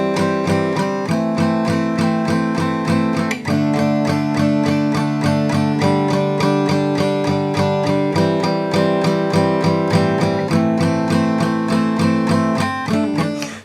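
An electric guitar strums tight, focused chords on the middle three strings in a song part, a steady, even rhythm with small inner note movements that runs throughout at a consistent level.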